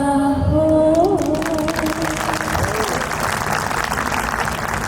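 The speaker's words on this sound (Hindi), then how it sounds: "जोरदार तालियां।" Loud, sustained clapping from a poetry recital audience, a dense wash of applause that starts immediately and carries on steadily to the end.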